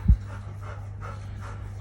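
A young dog pants in a quick, steady rhythm close by, opening with a single soft thump, then regular breaths continuing alone at moderate loudness.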